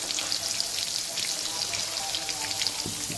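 Paneer frying in hot oil for a dhaba-style paneer and pointed gourd curry, a close, steady crackling sizzle with dense bright spatters and no break.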